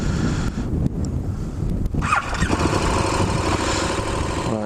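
KTM Adventure 1050 motorcycle engine running at a steady idle, a constant close rumble mixed with wind noise, with a couple of brief knocks along the way.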